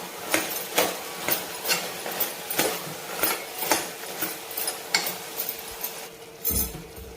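Metal spoon clinking and scraping against a pan as ginger-garlic paste is stirred into a mutton mixture for a mutton-methi curry, a steady run of close, sharp taps in an even rhythm.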